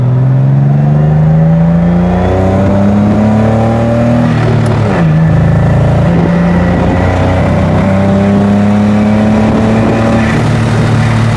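A BMW E36 engine pulls hard on a test drive, its loud, steady drone climbing in pitch through the gears with a brief dip around a shift, close and continuous with no talk over it.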